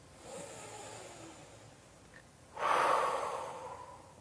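Slow, deliberate breaths of a labor breathing technique, a soft drawn inhale followed by a louder, close, airy cleansing exhale that trails off, with no talking.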